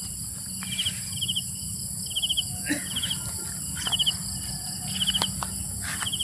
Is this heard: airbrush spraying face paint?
no